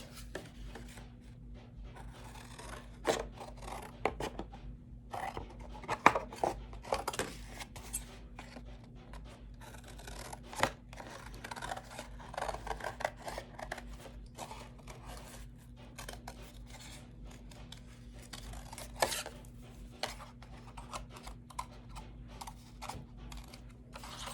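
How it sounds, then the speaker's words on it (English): Scissors snip through paper while a witch hat shape is cut out, giving a quiet run of short, irregular clicks and rustles over a low steady hum, with no talking. "then what you can do is you can cut out your hat"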